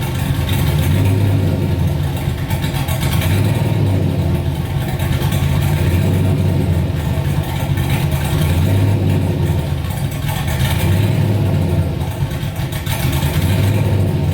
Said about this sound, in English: here's the idle from that first clip